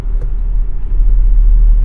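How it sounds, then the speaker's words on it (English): A 2019 Tesla Model X under hard throttle gives off a steady, loud low-frequency rumble and driveline vibration, a droning boom inside the cabin with no talk over it. "There's a really bad driveline vibration."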